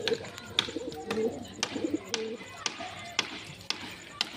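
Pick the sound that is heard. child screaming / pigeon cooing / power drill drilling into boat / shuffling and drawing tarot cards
pigeon cooing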